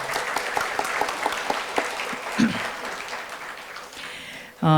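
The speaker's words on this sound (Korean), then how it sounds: "이 자리를 빌어서 다시 한번 박수로 감사의 뜻을 전하겠습니다" At a Korean small-business regulatory innovation awards ceremony, the audience applauds to thank the IBK Industrial Bank president with even, sustained clapping that runs under the room's ambience, a voice cutting in at the very end.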